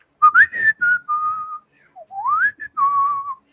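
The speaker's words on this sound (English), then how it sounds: "And you can just hear whistling." A person whistles a short cheerful tune up close, clear sliding and held notes in two phrases separated by a brief pause, with nothing else audible.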